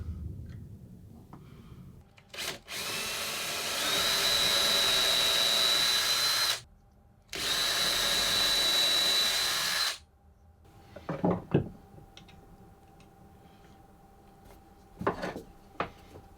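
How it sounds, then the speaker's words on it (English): A power drill bores pilot holes in a lamp base during an industrial lamp restoration, two sustained whining bursts with a brief pause between, followed by a few light knocks and handling clatter. "Then I'm going to drill pilot holes and get it screwed into place."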